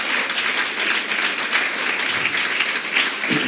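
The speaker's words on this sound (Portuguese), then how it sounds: "Eu acho que ele até merece um aplauso e grande por isso." Church congregation applauding during a sermon, dense sustained clapping from many hands filling the room at an even, loud level.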